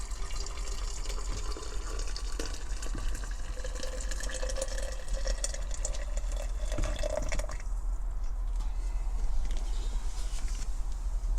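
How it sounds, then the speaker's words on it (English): Hot water from a freshly boiled kettle is poured into a jar for stripping paint from Corgi 245 Buick Riviera die-cast model parts. The close, steady splashing gurgle rises in pitch as the jar fills, then ends abruptly, with no speech. "Right, the old kettle's boiled. Let's put some water in."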